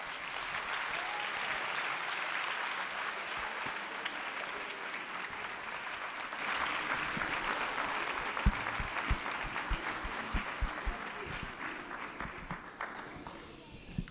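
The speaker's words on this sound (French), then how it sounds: "Je suis un tonnerre d'applaudissements." A school theater audience in Murcia bursts into sustained, thunderous applause, dense clapping filling the hall for the whole stretch with a few sharper individual claps standing out near the end.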